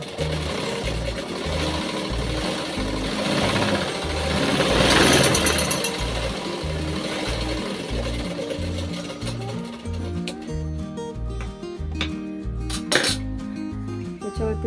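A sewing machine stitches a blouse with a continuous, loud mechanical hum and a fast, regular needle rattle that continues throughout.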